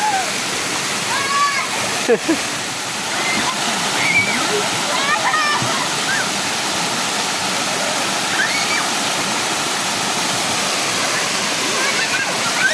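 Clear, cold water rushing along like an irrigation channel, a loud, steady broadband wash with splashing and gurgling, a voice speaking faintly beneath the flow.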